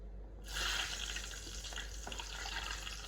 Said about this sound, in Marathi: याच तेलात आपण मिरच्या आहेत आपण तळून घेऊयात